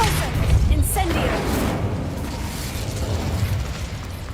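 Depulso and Incendio spells are cast in Hogwarts Legacy, producing a couple of sharp bursts and a booming whoosh early on, then fading into a rumbling, noisy ambience.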